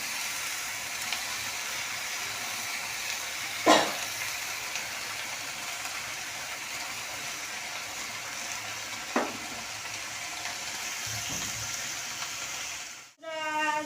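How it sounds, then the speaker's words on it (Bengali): Fish frying in a pan in a Bengali home kitchen gives a steady hiss and sizzle, with a few sharp clinks and scrapes along the way and a rustling bump at the end. "এক হাতে মাছ ভাজছি"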